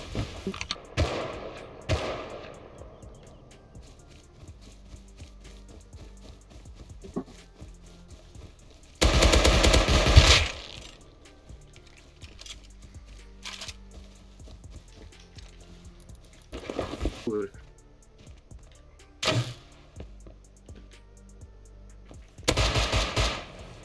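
Sharp bursts of AK rifle gunfire in the video game Rust break out at intervals, one long rapid volley and several shorter cracks, over quiet background clicks and tapping.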